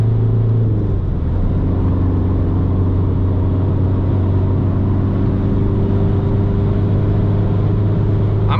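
Ring Tracktor car held flat out through Flugplatz on the Nürburgring at about 140, its engine a loud, steady droning roar with a brief pitch shift near the start, continuous and close with no talk.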